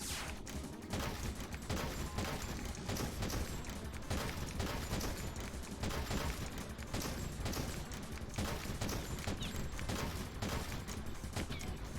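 Rapid, continuous gunfire from an arcade lightgun shooting game running in MAME, dense shots rattling nonstop at steady loudness throughout, with no voice over it.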